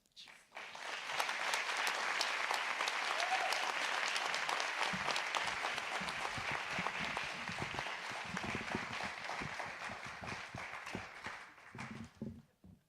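An audience at an awards concert breaks into loud, sustained applause that swells quickly, holds dense and even for several seconds, then thins into scattered claps before stopping.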